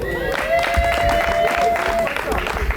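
A crowd applauds at an album launch for the artist, a dense wash of clapping under a loud voice speaking through a microphone.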